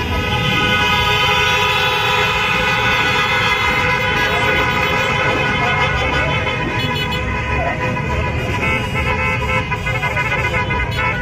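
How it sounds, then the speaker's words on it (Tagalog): Loud vehicle horns blare continuously over rumbling engines, a dense, sustained honking that fills the whole stretch without letup. "Isang malakas na busina!"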